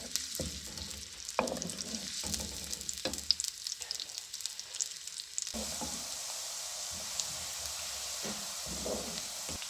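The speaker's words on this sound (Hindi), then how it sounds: "प्याज को हम लाइट गोल्डन कर लेंगे।" Chopped onions frying in a pan with oil until light golden for a mixed saag dish, giving a steady close sizzle with intermittent stirring scrapes and clatter, and no talking.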